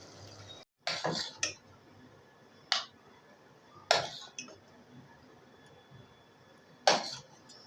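Spoon scooping dum aloo from a pan into a serving dish makes sharp metallic clinks and scrapes, about five distinct knocks spaced irregularly over a quiet kitchen background, with no talking.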